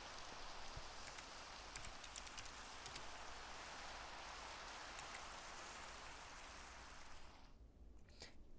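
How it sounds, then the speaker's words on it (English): Steady Minecraft video game rain hisses down with occasional sharper drop patters, then cuts off abruptly near the end, leaving quieter scattered drips. "oh, it's raining"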